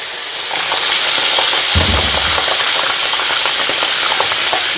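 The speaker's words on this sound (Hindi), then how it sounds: "ऑयल हमारा गर्म हो चुका है। लहसुन अदरक का पेस्ट डाल रहे हैं जी 2 चम्मच।" Loud, steady sizzling of garlic ginger paste frying in hot oil for beef nihari, with a brief stirring clatter partway through; close and continuous, no voices.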